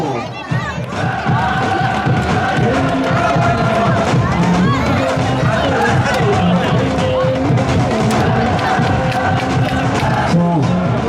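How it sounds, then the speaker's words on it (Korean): A stadium crowd at a Korean K League football match between Seoul E-Land and FC Anyang cheers and claps loudly and continuously, with an amplified voice talking over the roar. "다시 한번 뜨거운 박수 부탁드립니다."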